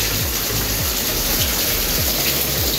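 Steady heavy rain pours down continuously at a villa in Pangandaran, a dense even hiss with rhythmic low dripping thuds, loud and close with no voices.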